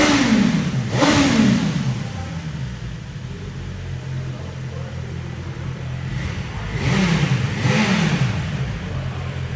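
A BMW superbike engine runs close by, with two pairs of sharp revs rising over a steady idle rumble.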